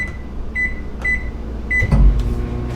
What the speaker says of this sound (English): I'm gonna throw this back in the microwave for roughly another 30 seconds or so.